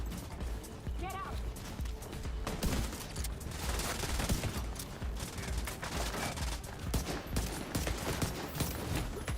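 Rapid gunfire in the shooter video game The Division 2, dense bursts and crackling shots filling the stretch alongside clattering game effects, with a person talking over it throughout.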